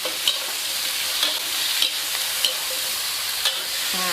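Shrimp and blanched mixed vegetables are stir-fried in a hot wok, giving a steady loud sizzle broken by regular scraping stir strokes about once a second, close up and without speech.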